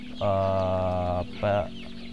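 Joper chickens in a brooding coop give two loud, close calls, a long drawn cluck then a shorter one, over a steady low background hum.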